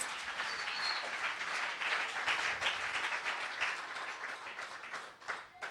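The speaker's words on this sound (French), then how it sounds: "Put your hands together for Jesus." A church congregation claps together for Jesus, sustained rhythmic applause from many hands filling the room at moderate volume for several seconds.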